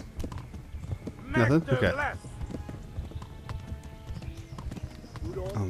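Rhythmic hoofbeats of a galloping horse in the video game Kingdom Come: Deliverance, running steadily under a person's excited talking.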